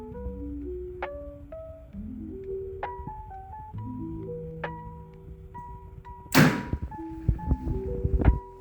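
A hunting bow shoots an arrow through a chronograph: one sharp loud thunk near the end, followed by a few fainter knocks, set against quiet tonal background sounds.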